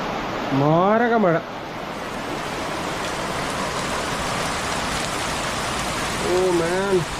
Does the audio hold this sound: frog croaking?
no